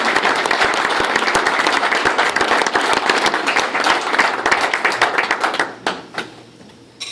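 An audience at a university chancellor's reception applauds to welcome a speaker, a loud, dense sustained clapping that continues for several seconds before thinning out and tapering off.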